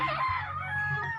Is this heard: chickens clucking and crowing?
yes